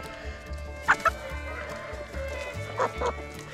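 Chickens in a backyard coop cluck in two short bursts a couple of seconds apart, moderately close, over a low steady background hum.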